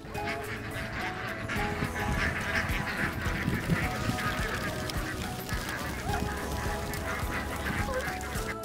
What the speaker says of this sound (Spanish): cientos de patos patrullando en el viñedo de Bergamon Low